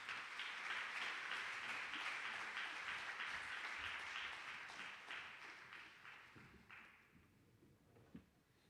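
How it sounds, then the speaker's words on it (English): An audience at a Sri Sathya Sai organization National Easwaramma Day gathering gives a round of applause, dense steady clapping that holds for several seconds and then tapers off, with a few stray claps at the end. "Please have a round of applause for Brother Jyothi Meditation."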